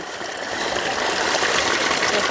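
Water from a mountain spring flows and splashes steadily, a close, dense gurgling rush that holds constant throughout without any talking.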